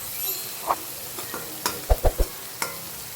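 Onions cook in a pan while a utensil stirs and scrapes through them, with a faint background sizzle and several sharp knocks and clinks that come in a quick cluster near the end.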